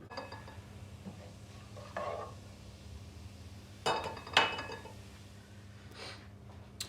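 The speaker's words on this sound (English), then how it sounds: "These should sizzle and crack as they go in." Soft sizzling of cumin and carom seeds in hot oil with a few sharp crackles and pops, faint and close, with light clinks of a utensil.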